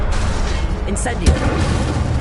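Incendio fire spell being cast in Hogwarts Legacy, a booming fiery blast with a sharp thump near the middle, set in dense, loud game action noise.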